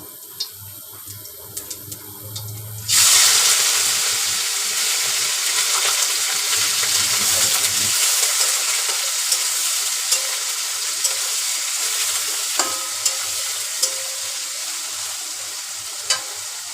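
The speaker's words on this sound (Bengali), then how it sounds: "এবার আমি চিংড়ি মাছগুলো একটু তেলের মধ্যে দিয়ে কিছুক্ষণ কষায় নেব।" Shrimp hitting hot oil in a pan, a loud sudden sizzle erupting after a few quiet seconds and then frying steadily on, with faint stirring clicks.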